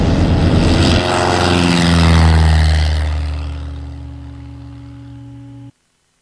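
A small propeller airplane at full throttle on takeoff, its engine droning loud and close, then the roar swells and gradually fades as it climbs away, and the recording cuts off abruptly.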